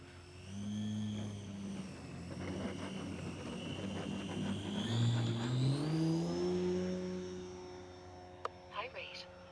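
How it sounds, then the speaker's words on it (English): A 102-inch Skywing RC ARS 300 model plane flies under heavy thrust, its motor droning loudly and shifting pitch as it passes, with a short sharp click near the end. "second flight of the 102-inch Skywing RC ARS"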